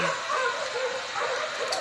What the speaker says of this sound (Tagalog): Maingay mga aso na makimagnanakaw.